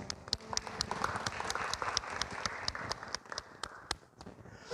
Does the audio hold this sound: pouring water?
no